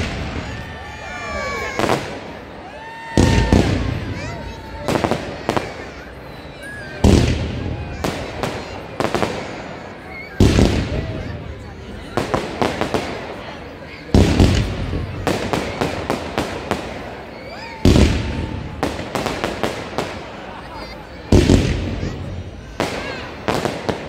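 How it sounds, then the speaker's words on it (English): Fireworks at the Chelsea Christmas light switch-on, loud sharp bursts and crackling volleys in irregular clusters over an outdoor crowd murmur, with occasional voices. "let all enjoy the sound of the fireworks"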